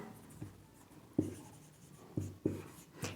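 Marker or chalk strokes on a board spell out an Instagram handle, a quiet run of short sharp taps and scratches in an irregular rhythm, with no talking.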